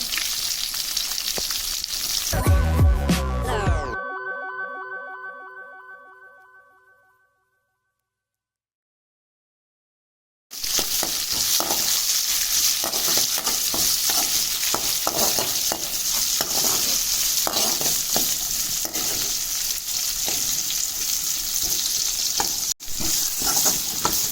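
A garlic tempering for sambar frying in a pan: a loud, steady sizzle and crackle with stirring, broken by a tonal ringing chime and several seconds of silence before the frying resumes.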